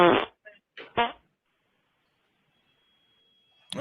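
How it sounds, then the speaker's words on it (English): A hand fart, made by squeezing air through cupped hands, gives a few short sputtering bursts up close, followed by silence. "That was a good hand fart."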